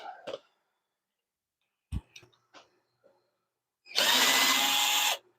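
Screws being backed out of a woodturning lathe bowl setup after the faceplate comes off: a few short isolated clicks and knocks, then a loud, steady burst of power-driver whirring lasting about a second, close by.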